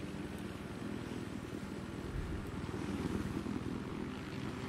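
Helicopter in Battlefield 4 on the Paracel Storm map gives a continuous, even rotor and engine drone that stays steady and moderately loud, with no talk over it.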